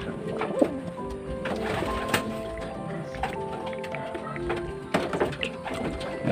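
Racing pigeons back from 101 km of training crowd and scramble for electrolyte water, with soft cooing, wing flutters and clattering nearby under occasional background chatter.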